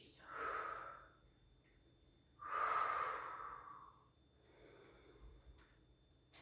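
Three deep breaths during a Pilates spine exercise: two strong, audible exhales and inhales in slow succession, then a softer third breath, close and quiet with no talking.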